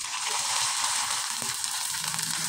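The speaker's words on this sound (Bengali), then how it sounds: "একইভাবে আমি কয়েকটা পিঠা ভেজে দেখিয়ে দিচ্ছি" Rice pitha made from raw rice flour sizzles steadily in hot oil, a dense, continuous frying hiss throughout with no talking.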